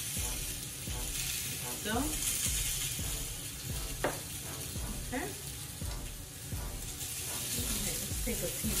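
Watermelon slices sizzle steadily on a hot grill as oil is brushed onto them, a soft continuous frying hiss with light scraping and a brief spoken word over it.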